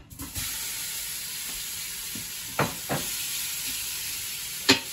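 Stew meat browns in hot olive oil in an Instant Pot on the sauté setting, a steady close sizzle and hiss broken by a few short scraping stirs.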